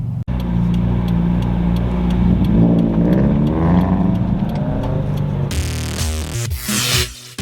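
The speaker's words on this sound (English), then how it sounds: "Never get sick of that cold start noise." A widebody Toyota 86's engine revs loudly and close by, with a steady running rumble that swells, then sharp throttle blips near the end.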